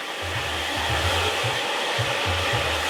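A handheld hair dryer blows steadily close by while drying a man's short hair during a haircut, a continuous airy roar with a low, pulsing hum underneath and no voices.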